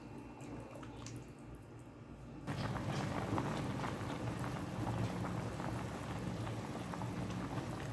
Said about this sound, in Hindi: पानी हमारा बॉयल हो रहा है, अब हम इसमें इनको डाल देंगे, चावलों को।